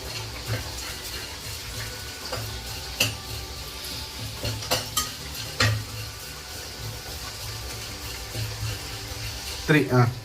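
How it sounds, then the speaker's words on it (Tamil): Ginger garlic paste, cinnamon and cloves sauté in a pan with a steady, moderate sizzle, and a utensil clinks and scrapes now and then as someone stirs. A person talks over the sound. "இப்போ அங்கே இஞ்சி பூண்டு பேஸ்ட் வதங்கிட்டு இருக்கு. இந்த பக்கம் பட்டை லவங்கெல்லாம் நம்ம வதக்கிட்டு இருக்கோம்."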